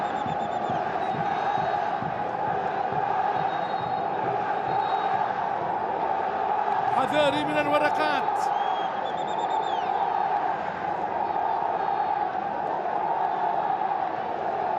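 Al-Nassr fans in a packed stadium at a King Salman Club Cup final against Al-Hilal, a steady roar of crowd cheering and chanting throughout, with a commentator speaking over it.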